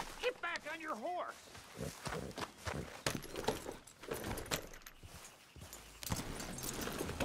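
Horse hooves clip-clop at a walking pace in the Red Dead Redemption 2 video game, with jangling tack, mixed under voices talking and other game sounds.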